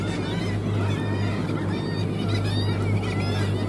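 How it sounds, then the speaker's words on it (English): Raucous kittiwake colony calling on a seabird cliff near Holy Island at low tide, a dense continuous wash of bird cries over a steady low boat engine drone. "it'll be quite raucous with the noise of the kittiwakes"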